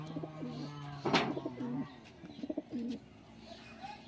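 Pigeons of a high-flying breed coo in soft, throaty phrases, several rounded calls spread across a few seconds at moderate distance, with faint chirps and low background murmur.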